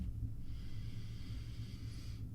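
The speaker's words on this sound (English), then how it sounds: "Let me go ahead and give it the sniff test real quick." A long, steady nasal sniff close to the microphone as someone smells a Dr. Squatch Fresh Falls deodorant stick, one continuous inhale lasting about two seconds.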